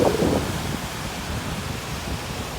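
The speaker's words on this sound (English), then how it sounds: "the water is rough and the waves are crashing" Rough water with waves crashing under gusting high winds up to 65 mph during a thunderstorm, a steady loud broadband roar with a heavier surge at the start.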